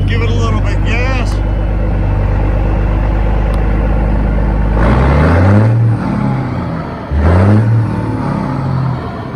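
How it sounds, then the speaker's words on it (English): A big truck engine idles loudly up close, then rises in two throttle blips as gas is fed in, each swelling and falling back. A voice talks over the start. "I'll give the gas. Give it a little bit gas."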